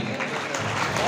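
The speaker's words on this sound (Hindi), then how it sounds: "जोरदार ताली बजाएं, जोरदार ताली बजाकर स्वागत करें।" Crowd applause welcoming a guest at a Jharkhand Pradesh Congress reception in Khalari: dense, steady clapping that fills the whole moment, with a voice faintly mixed in.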